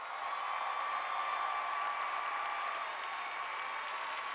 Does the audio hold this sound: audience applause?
yes